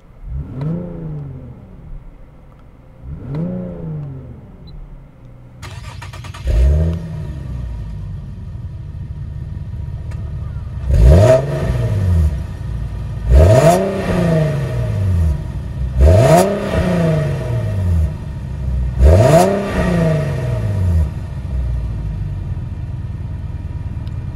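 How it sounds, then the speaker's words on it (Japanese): A Nissan Fairlady Z sports car engine cranks a few times, catches, then roars through a series of sharp revs, each rising and falling in pitch, loud and close. "じゃあエンジン始動してみたいと思います"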